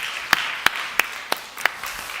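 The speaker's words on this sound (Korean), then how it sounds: "박수 한번 하겠습니다." A church congregation claps in unison: five sharp, evenly spaced claps in a steady rhythm, fairly faint against a quiet room.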